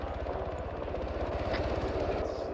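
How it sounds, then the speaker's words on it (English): A steady, rapid rotor thump of an enemy helicopter in Arma 3 drones continuously at moderate distance, with no talk over it. "We got enemy helicopter coming in from the south."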